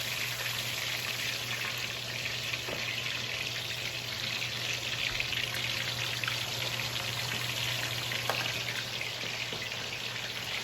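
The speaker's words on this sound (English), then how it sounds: "we just grab a hold of the fish with a pair of tongs and just get her in the oil" Red snapper fries in hot oil in Dutch pots for Jamaican escovitch fish, giving a steady, even sizzle and crackle with a few sharper pops, fairly soft and continuous without any talking.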